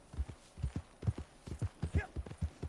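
Horse hooves clip-clop in a steady, even trotting rhythm in the video game Red Dead Redemption 2, moderately close with a soft low hum beneath.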